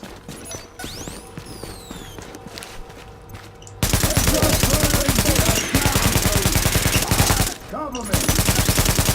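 A deployed gun turret in The Division opens up after a quiet stretch, hammering out loud, rapid automatic fire that continues with one brief pause, close and dominant.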